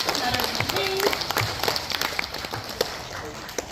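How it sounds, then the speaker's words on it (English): Audience applause and clapping for a volunteer at a science show in Melbourne, a dense patter of hands with scattered voices and cheers mixed in, steady for a few seconds. "Can I please have a massive round of applause for Damien, our first volunteer?"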